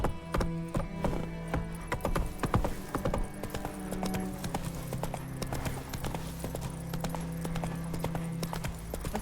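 Roach, the horse in The Witcher 3, gallops with steady, close clip-clop hoofbeats that run the whole way through, over low sustained tones and with no voices.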